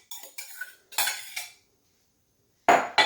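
Pickled cucumbers and onion in a liquid being stirred with a spoon in a bowl: a few sharp scraping clinks in short bursts, close and quiet with gaps of silence, no talking.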